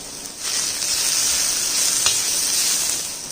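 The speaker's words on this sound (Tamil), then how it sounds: "நம்ம வதக்கிக்கிறோம்." Pounded ingredients sautéing in sesame oil, a loud continuous hissing sizzle that swells after a moment and holds steady, with a brief scrape partway through and no voices.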